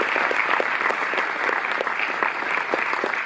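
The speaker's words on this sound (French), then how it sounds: "Vous pouvez également les applaudir." Audience applause in a cinema hall at the Cinémathèque in Paris, honouring a film distribution team during a talk with Darren Aronofsky; dense, steady clapping from a large crowd, close and even throughout.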